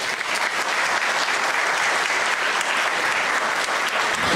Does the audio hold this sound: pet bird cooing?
no